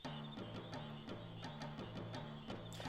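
Frogs croak in Qu's Marsh in Final Fantasy IX, a steady rhythmic series of about a dozen evenly spaced croaks over a low droning game ambience, close and moderately loud, with no talk.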